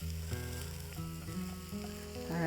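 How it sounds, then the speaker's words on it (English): Quiet, steady sizzle of onion frying in a hot pan, with faint tonal music playing in the background. "you can hear that sizzle right away because the pan is already cooking the onion."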